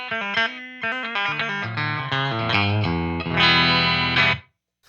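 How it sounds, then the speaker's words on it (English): Electric guitar, a Balaguer Espada Limited played on its bridge pickup, with a bright, twangy tone and a run of picked notes and chords rising to a sustained chord that cuts off, played alone with no talking. "With the bridge, you can just kind of get that twang."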